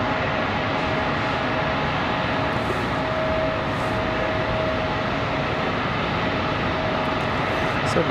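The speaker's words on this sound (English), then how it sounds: "Nevada, the Red Fox livery coming in from Chicago O'Hare. That one arriving here momentarily." A Frontier Airlines jet in Red Fox livery arriving at Raleigh-Durham from Chicago O'Hare, a steady, fairly loud engine rumble with a faint whine running through it, unbroken for the whole stretch.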